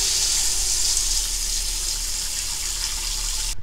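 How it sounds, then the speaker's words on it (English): Water gushes steadily from a bidet tap in a boat's head, a loud close hissing flow that holds constant for a few seconds before cutting off abruptly. "Open the bidet."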